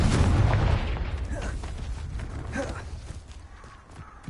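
In the video game Hogwarts Legacy, a Confringo explosive spell goes off in a loud, low blast at the very start, then rumbles away into quieter crackles and scattered thuds.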